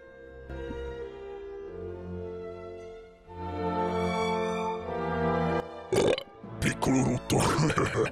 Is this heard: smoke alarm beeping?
no